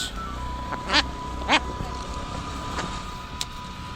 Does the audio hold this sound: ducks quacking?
yes